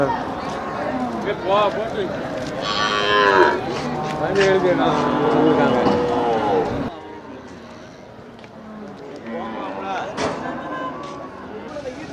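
Cattle low and moo amid the busy Melapalayam cattle market, with people talking and calling over the animals; the crowd noise is loud for the first half, then drops to quieter chatter with occasional sharp knocks.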